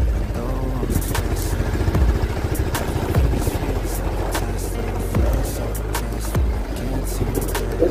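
A motorcycle rolls along a rough, damaged rural road after rain, its engine droning steadily under constant bumps and rattles, with occasional clunks from the uneven surface.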